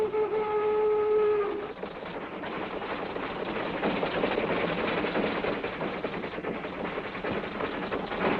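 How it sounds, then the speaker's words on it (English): A cartoon train speeds along a railroad track chasing a truck, opening with a sustained steam whistle and then giving way to a continuous rushing, rattling rumble. No voices are heard. "A truck on a railroad track being chased by a train."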